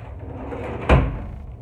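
A kitchen drawer shut once, a single sharp knock near the middle, heard close by after coffee-making with faint room noise around it.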